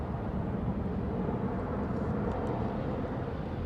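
An Airbus jet departing London Heathrow passes overhead, its engines producing a continuous broad low roar that stays steady and loud throughout.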